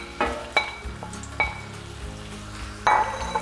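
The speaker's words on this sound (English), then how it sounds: "I have my pan heated over medium-high heat, and I'm gonna add a bit of oil. And then I'm gonna go ahead and grab my sausages and add them to the pan." Sausages dropped into hot oil in a pan heated over medium-high heat, a crackling fry with a few sharp clatters as pieces land, close and steady with no speech.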